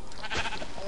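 A single short Minecraft sheep bleat, faint and brief, over a light background hiss.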